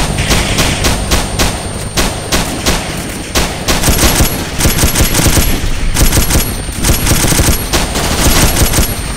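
Dense, continuous automatic gunfire from a Vietnam-era military video game firefight, rapid overlapping bursts and machine-gun fire laying down covering fire, loud and sustained without pause throughout.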